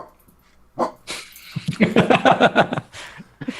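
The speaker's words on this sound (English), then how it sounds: "my dog doesn't like it when other people show up unexpectedly" A dog barks and whimpers in a series of short, excited yips and whines, close and fairly loud, reacting to visitors arriving unexpectedly.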